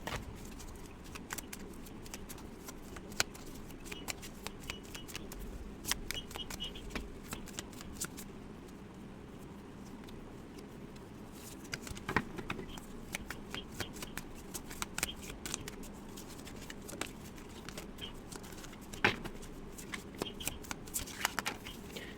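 A deck of tarot cards is shuffled over and over, a steady run of soft riffling and slapping close by, with a few sharper clicks and no talking.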